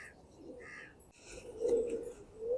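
Golden bajra pigeons of a Rajasthani breed coo softly in low, rolling calls, with a few faint higher bird chirps nearby.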